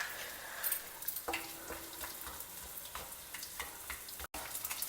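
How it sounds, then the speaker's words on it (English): Gond frying in hot ghee gives a soft, continuous sizzle and crackle, broken by a few brief stirring scrapes and clinks, fairly quiet with no voices. "The remaining gond also we will fry it and keep it ready."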